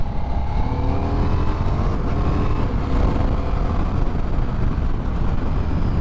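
A 2025 Ducati XDiavel V4 motorcycle engine runs at low RPM with its rear two cylinders cut out, giving a steady, dense, rumbling drone that holds level throughout without pauses.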